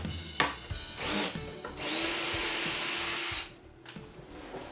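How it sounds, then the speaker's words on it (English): A power drill boring pilot holes into wood while building a model railroad benchwork, a close steady whine of a few seconds with a rising pitch, preceded by short handling knocks and then tapering off. "I then drill the pilot holes and attach the screws."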